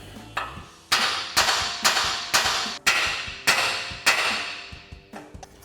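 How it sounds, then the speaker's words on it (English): Eight sharp metallic hammer strikes on a car's steering knuckle ring out in a steady rhythm to free the ball joint, each loud and close with a short ringing decay, followed by a couple of lighter taps. "we can grab a hammer to tap on the side of the knuckle here to break our ball joint free"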